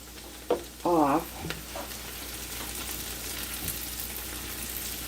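Soup vegetables and garlic sauté in a hot pot, giving a steady sizzle with a couple of brief clatters and a short scraping stir near the start, then a quieter frying hiss that carries on to the end.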